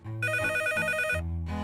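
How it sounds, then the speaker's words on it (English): A classic telephone bell rings loudly and clearly in a steady electric trill, one ring burst lasting about a second followed by the start of another, with a faint musical bed underneath. "Telephone rings several times a day."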